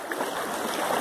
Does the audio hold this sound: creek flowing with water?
yes